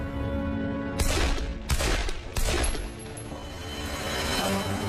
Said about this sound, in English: And then gunfire.